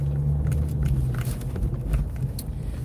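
Steady road traffic rumbles low and continuous, with faint scattered clicks and swishes passing over it.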